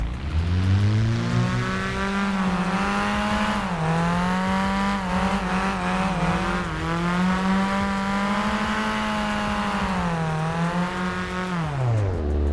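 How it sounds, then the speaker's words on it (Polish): A video game Alpine A110 (2019) engine revs continuously, pitch rising and falling with throttle blips, loud and up close. "jaki dźwięk będzie, jak będę gazować"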